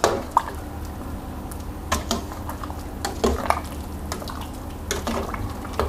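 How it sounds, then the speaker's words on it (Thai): Fish sauce is stirred into pork leg soup in a pot, giving soft wet sloshes, drips and light clinks of utensil against metal, close and quiet with no voices. "ใส่ลงไปเลย แล้วก็คนคลุกเขาครับ"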